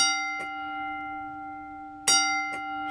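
An electric 8 or 10 inch bell with an adjustable-voltage plunger rings with a few separate metallic strikes, each leaving a long sustained ringing tone that slowly fades in a quiet room.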